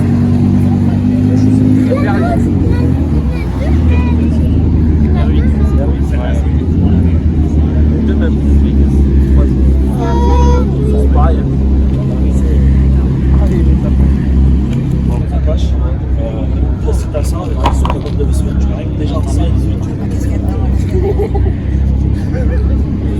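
Car engines rumble and rev at a busy car meet, with a constant babble of voices and occasional vehicles moving past, loud throughout.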